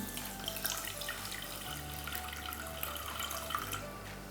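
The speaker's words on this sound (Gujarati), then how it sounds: "અને એની અંદર સવા કપ જેટલું પાણી ઉમેરીશું" Water is poured into a pot of sugar to make syrup in a home kitchen, giving a steady, splashing trickle like a running tap that carries on for several seconds at low volume.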